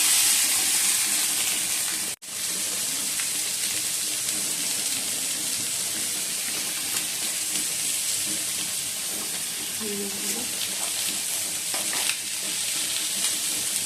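Food stirred and frying in a pan while cooking with water and turmeric at home, a steady broadband sizzle with scraping stir strokes throughout, one brief dropout near the start, no talking.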